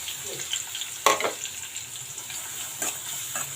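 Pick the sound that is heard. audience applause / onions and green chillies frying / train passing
onions and green chillies frying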